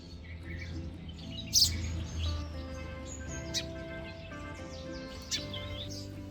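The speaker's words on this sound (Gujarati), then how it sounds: "ચકલીઓ આમ તેમ આટા મારે છે ને અવાજ આવે છે" Sparrows flitting about on a village morning, scattered short chirps and tweets over a quiet background hum, a few sharper calls standing out now and then.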